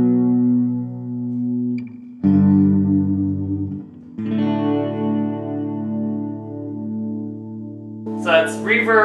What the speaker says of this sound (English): Here's with a little bit of delay slash chorus.